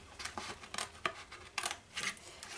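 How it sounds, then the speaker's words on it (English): Scissors snip through decorative craft paper in a handful of quick, crisp cuts, with short pauses between snips, close and fairly quiet. "So go ahead and just cut that off."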